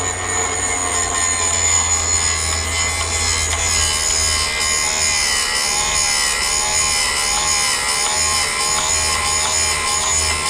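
A Vevor drill sharpener grinds a drill bit, changing its point angle; a continuous, loud, steady motor whine with abrasive grinding runs throughout with no talk.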